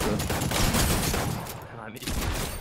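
Rapid bursts of gunfire from the Fortnite video game, in the zombie mode, loud and continuous across the moment with only a brief dip.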